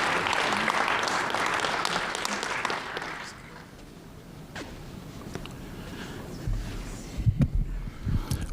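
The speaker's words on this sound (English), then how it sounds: "One more round of applause for your poet laureate, your French-speaking poet laureate" Applause for the city's French-speaking poet laureate at a city council meeting in Ottawa, loud and dense for about three seconds before thinning into scattered claps and room noise with a few bumps near the end.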